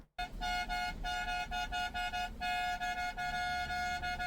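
A horn button on a piece of industrial equipment sounds a steady, nasal tonal honk, pressed in a quick run of short toots with brief gaps, close and loud, with no talking.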